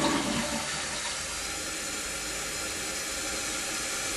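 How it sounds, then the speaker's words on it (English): A household toilet flushes with a loud rushing gush at first, then settles into a steady hiss of the tank refilling. No one speaks. "I flushed it a couple times."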